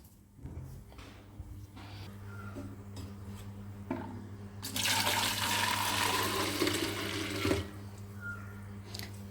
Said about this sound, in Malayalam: വെള്ളക്കുപ്പിയിലൊക്കെ വെള്ളം കഴിഞ്ഞിട്ടുണ്ട് അപ്പം ഇതൊക്കെ ഒന്ന് നിറച്ചേക്കാം ആദ്യം